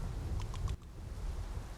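Supercell thunderstorm from Civilization VII: a low, dense rumble of rain and thunder fills the whole stretch, a few faint tonal blips riding on top before a brief dip, then the storm's steady wash continues.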